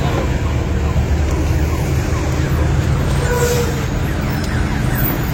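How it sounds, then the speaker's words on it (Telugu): Busy road traffic in Kolkata, a loud, continuous rumble of engines and passing vehicles close around, with a faint siren-like tone in the mix and no clear talk. "ట్రాఫిక్ చూడండి ఎట్లా ట్రాఫిక్ ఉన్నదో."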